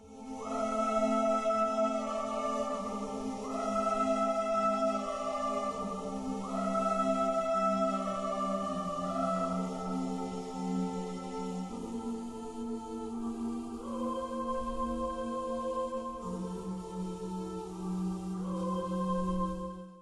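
Orchestrion roll music from Final Fantasy XIV: a sustained, layered melodic arrangement with long held chords and a steadily moving melody line, played continuously at moderate volume with no voices.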